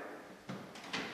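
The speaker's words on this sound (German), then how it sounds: "Schiebt man die Fläche wieder etwas herein" Wooden sliding panel of a mahogany Biedermeier secretary desk pushed back in, giving a few soft, brief wooden scrapes and knocks at close range in a quiet room.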